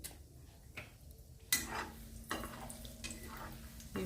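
Chana dal and urad dal frying in a pan for semiya upma, a soft sizzle with a few sharp spoon scrapes and clinks against the pan, close and quiet with no voices.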